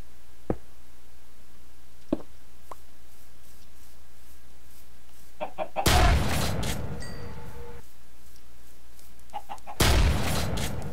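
Sparse clucks from chickens in a game soundscape, with brief sharp pops and two loud bursts of gunfire-like noise.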